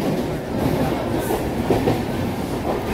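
A train rolling along the rails, a steady low rumble with faint rhythmic clatter, heard from nearby and continuous without talk.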